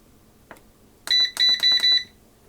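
A Carey Nesco electric canner gives a click followed by four short, sharp electronic beeps in quick succession, close and clear over a quiet background.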